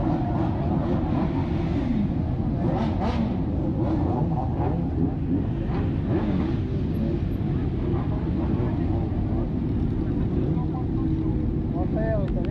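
Four-cylinder motorcycle engines in Indaiatuba rumble loudly and continuously at close range, with brief rising revs early on, while people talk over the noise.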